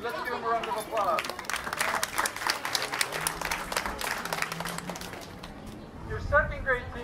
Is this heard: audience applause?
yes